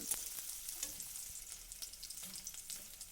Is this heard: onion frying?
yes